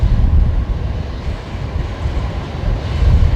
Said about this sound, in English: Qantas 937 to Perth and rolling now